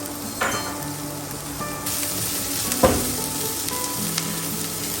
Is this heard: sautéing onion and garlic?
yes